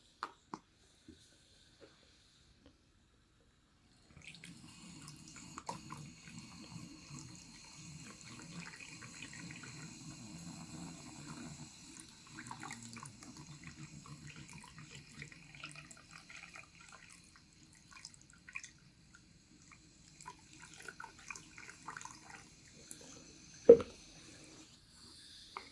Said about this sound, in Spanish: Siguen llenando las demás celdas de la batería con la mezcla de bicarbonato de sodio y agua